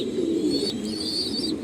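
Racing pigeons coo softly in a low, throaty burble, with a few faint higher chirps above them, close by and steady through the short stretch.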